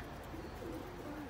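Ferozpuri pigeon cooing softly, faint low warbling coos repeated over a steady background hum.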